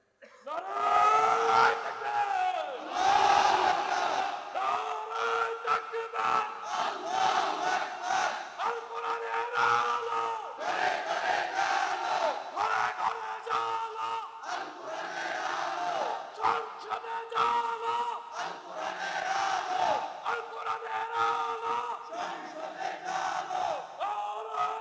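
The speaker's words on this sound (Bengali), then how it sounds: "এটা হলো আসল স্লোগান।" A large crowd chants slogans in loud, continuous unison at a rally, with rhythmic surging shouts that rise and fall steadily throughout.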